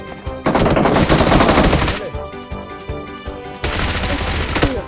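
Dense automatic gunfire from the battle royale game BGMI, loud sustained bursts with a short pause in the middle before another rapid burst; no talk.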